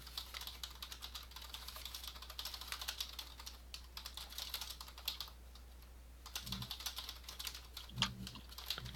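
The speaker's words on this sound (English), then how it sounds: "I hear typing." Steady, continuous typing on a computer keyboard, a quick run of soft key clicks at a moderate, fairly quiet level with no voices over it.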